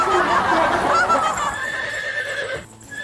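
A horse gives a loud, close whinny that rises and wavers for about two seconds, followed by fainter clip-clop sounds, suggesting a horse-drawn carriage in a Thai television drama.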